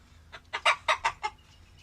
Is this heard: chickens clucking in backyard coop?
yes